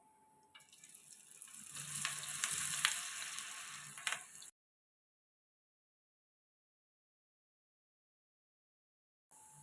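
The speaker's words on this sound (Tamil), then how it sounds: "இந்த அளவு காஞ்சோனையும் மசாலா தடவி வச்ச கடலையை போட்டு எடுக்கலாங்க." Masala-coated peanuts frying in a pan of hot oil, a bright steady sizzle that swells for about four seconds, then cuts to silence.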